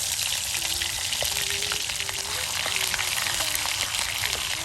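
Ingredients for tomato chapa biryani sizzling steadily in hot oil, a continuous close crackling fry with small popping bursts throughout, no voices.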